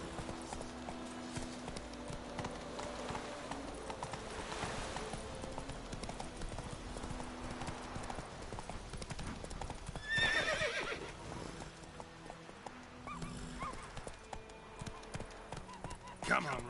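Roach, the horse in the video game The Witcher 3, gallops with rhythmic hoofbeats and neighs midway, moderately loud, while someone talks over the running.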